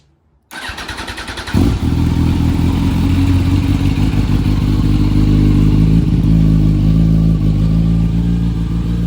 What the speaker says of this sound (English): this bike does have a power commander, so the idle's gonna sound a little different, but it sounds all right